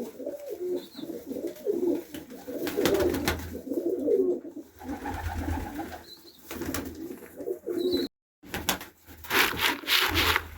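Pigeons peck and shuffle at scattered corn and sunflower feed outdoors on a freezing winter morning at -15, with soft coos and light rustling, close by and steady.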